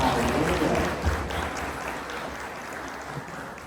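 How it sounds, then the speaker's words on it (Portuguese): Men in a church congregation applauding loudly, a dense wash of clapping that gradually thins and fades, with crowd murmur underneath. "Vamos só os homens aplaudir agora,"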